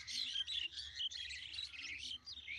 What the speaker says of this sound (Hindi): देखिए कोयलिया है, कोयलिया,